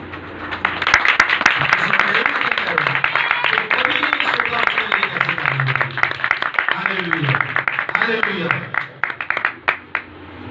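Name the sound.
congregation applause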